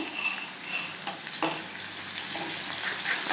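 Onion sizzles in hot oil as coarsely crushed ginger-garlic paste is added and stirred for a potato curry, a steady close frying hiss with occasional utensil scrapes and clinks, no talk.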